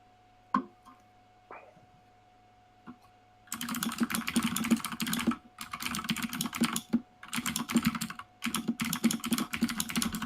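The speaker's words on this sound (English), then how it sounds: "I have a Kev's, mechanical keyboard" Fast, steady typing on a mechanical keyboard comes in close bursts of clattering keystrokes with short pauses between them, after a few isolated clicks.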